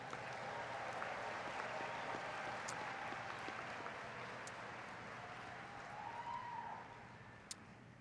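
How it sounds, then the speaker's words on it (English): Parents of graduates applauding at a university commencement, sustained clapping from a large audience heard from a distance, steady and fairly faint before thinning out near the end. "Could you just give yourselves a round of applause"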